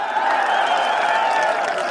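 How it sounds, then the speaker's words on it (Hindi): A large crowd at an outdoor Lok Sabha election rally in Rajasthan roars with sustained applause and cheering, a dense, steady wash of clapping that stays loud throughout without pause. "आपकी तालियों का शोर जाए जयपुर से लेकर दिल्ली तक की"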